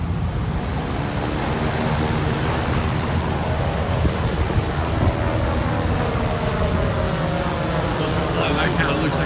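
A Walmart delivery drone spins up for takeoff outdoors, its rotors building into a loud, steady whir with a low rumble beneath, and a few voices speaking faintly over it.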